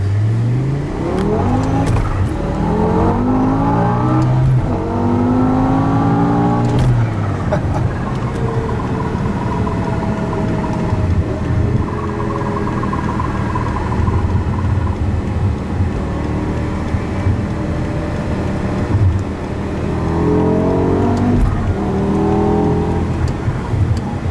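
An 800-horsepower G-Power BMW M5 V10 Bi-Kompressor Hurricane RR revs up and accelerates repeatedly from a gas station, rising in pitch through the gears, loud and close, with a steady roar between shifts.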